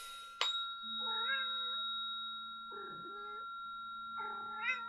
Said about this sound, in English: My cat really loves the tuning forks.